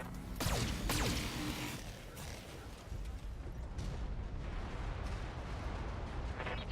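Mech weapons fire from BattleTech striking a turret: a few heavy booming shots near the start, then a low rumbling combat bed that lingers to the end.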